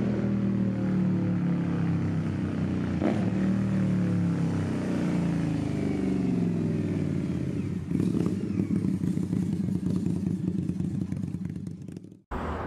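A 2018 Indian Scout Bobber motorcycle with a Trask slip-on exhaust gives off a steady, deep, low rumble at close range, rising briefly in revs near the end before cutting off abruptly.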